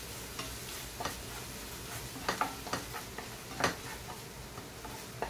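Onion, garlic, coriander and ginger-garlic paste fry in oil, a soft steady sizzle broken by scattered ticks and scraping stirs of a spoon in the pan, close and alone.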